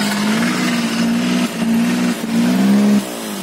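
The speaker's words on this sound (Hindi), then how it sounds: "आप यहाँ पर देख सकते हो जो गाड़ी का साउंड कैसे निकल के आते" A Maruti 800 with a racing exhaust revs loudly and steadily up close, its engine note holding a droning pitch with brief dips and a final drop as the throttle eases off.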